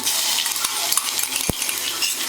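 A spoon stirs fresh crushed garlic and green chilies frying in a pan, with a steady sizzle and a few scraping clinks against the metal, one sharper knock standing out.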